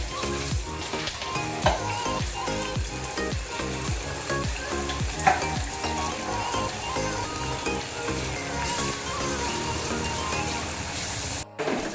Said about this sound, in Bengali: এবার আমি চিকেনগুলো একটা একটা করে দিয়ে ভেজে নেব।